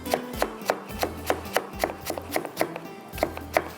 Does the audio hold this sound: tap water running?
no